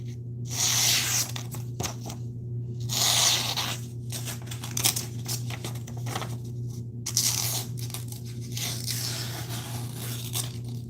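A razor-sharp budget knife with grey G10 handle scales slices through paper in three or four rough tearing strokes, close and fairly loud, over a steady low hum.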